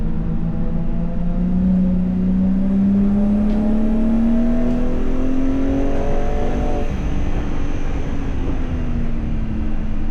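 A car on a track day at Watkins Glen International, driven fast on a flying lap in wet conditions, roars loud and close from inside the cabin, its engine note climbing steadily under acceleration before shifting and settling.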